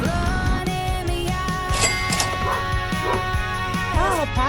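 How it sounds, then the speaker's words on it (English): Two puppies barking and yipping near a car, repeated high yaps and whimpers in quick bursts over a steady background song track. "Oh, puppies."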